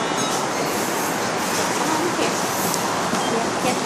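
A Toronto TTC subway train rumbles loudly and steadily in a continuous roar with faint wheel squeal and rattling, while people talk under the noise.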